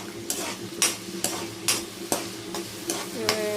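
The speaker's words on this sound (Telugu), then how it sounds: "పీతలు ఫ్రై అండి." Crabs sizzle in a pan over onion paste, with a steady frying hiss broken by regular scrapes and stirring strokes about every half second, close and fairly loud.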